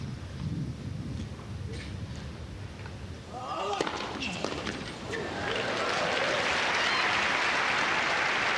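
Crowd applause at the Muster versus Rusedski tennis match, rising in the second half into steady, broad clapping that swells and holds loudly to the end.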